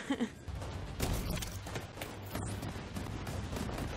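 Gunfire in The Division 2 on Xbox One X: repeated sharp shots and bursts over a dense battle din, fairly loud and continuous, with no talk over it.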